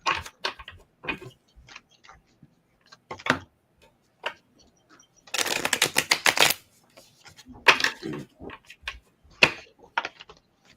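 Playing cards being shuffled for a tarot-style reading, a series of quick riffling bursts and taps close by, with one longer dense riffle in the middle, no talking.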